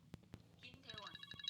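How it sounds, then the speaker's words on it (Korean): A telephone rings during fly-screen installation work, sounding as a few short repeated electronic rings that stand out amid soft background noise. "전화가 와가지고"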